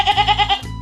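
A goat bleats once, a loud, wavering nasal cry lasting under a second, close to the listener.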